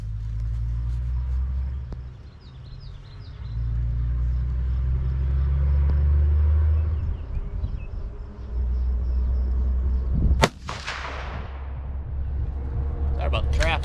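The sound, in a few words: road traffic passing near shooting range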